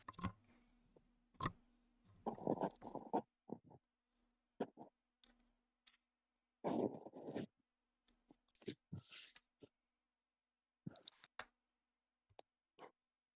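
Close shuffling and handling noises near a microphone during an online tabletop game session, made up of scattered clicks, taps and brief rustling bursts with quiet gaps between them. No voices are heard.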